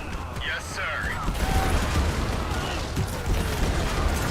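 Enemy units hurl small grenades during a battle in the strategy game Dune Spice Wars, their crackling little blasts popping in quick, dense bursts over a continuous wash of combat noise.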